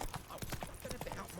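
Hoofbeats of Roach, a horse in The Witcher 3, a quick run of clip-clop strikes at a steady gait over the span of a moment, with a voice speaking briefly over them.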